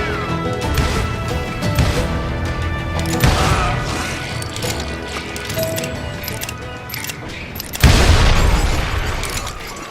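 Gunfire in a Call of Juarez Gunslinger shootout: rapid, loud shots and impacts crowd together, ending in a heavy blast near the end that rings out.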